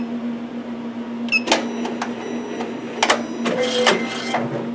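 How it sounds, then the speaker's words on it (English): An Avance multihead embroidery machine carries out a thread trim: a low electrical hum underneath, then a few sharp mechanical clicks and short whirring servo motions, close and fairly quiet. "So I'll go ahead and start a thread trim."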